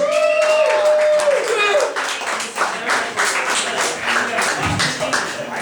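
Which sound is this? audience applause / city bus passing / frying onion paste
audience applause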